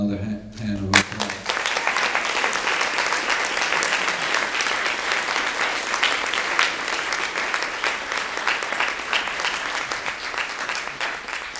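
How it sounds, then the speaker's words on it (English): A conference audience breaks into sustained applause at a legal guild event, dense clapping filling the room steadily for over ten seconds after a brief spoken line at the start. "I'd like to give Jan another hand of applause"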